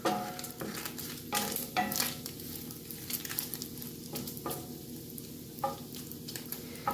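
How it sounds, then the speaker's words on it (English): Bacon crisping in a pan over medium heat gives a steady, close sizzle and crackle, with louder spitting bursts rising and falling throughout and no voices. "Bacon is almost done at medium. You want it to start to crisp up."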